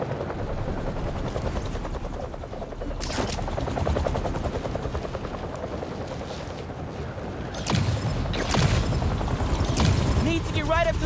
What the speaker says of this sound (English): Something like a helicopter's blades.